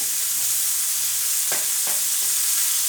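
Spices fry in a pan with a steady hiss, and pre-boiled peas tumble in partway through with a couple of short soft splashes and scrapes, close and constant for samosa filling.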